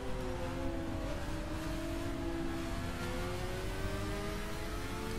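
A motorcycle revs and accelerates hard on a city street, its engine note rising steadily and loud for several seconds with road and wind noise, no talk over it.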